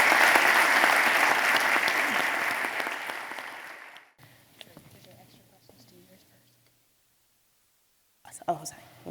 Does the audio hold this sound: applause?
yes